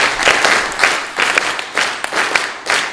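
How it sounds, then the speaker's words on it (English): A group claps together in a steady rhythm on cue, strong broadband bursts of hand claps at a regular beat, close and loud, with no talk. "This one I think will be easier to clap."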